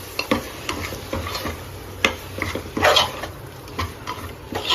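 Biryani masala stirred through softened onions and tomatoes in a pan: irregular scraping strokes and several sharp spoon knocks against the metal, close by, over a faint, steady sizzle, with no talking.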